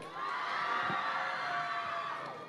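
A fiesta crowd in Eastern Samar roars with shouting, whooping and cheering to vote for a contestant, a dense, loud wall of voices that rises quickly and holds for a couple of seconds.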